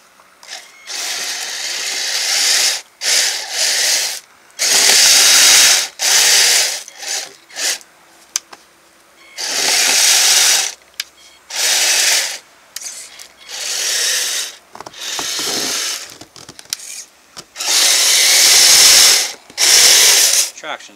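Kyosho Blizzard RC snow vehicle driving over fresh snow on an outdoor deck, giving bursts of high-pitched ratcheting motor and track whir in short repeated runs with brief pauses between, close and fairly loud.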